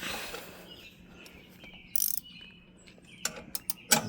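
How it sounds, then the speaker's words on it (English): A last bolt being worked loose while assembling a DR brush cutter, faint metallic clicks and ratcheting taps scattered over quiet background, with a short burst of louder clicking near the end. "I'm just getting this last bolt removed."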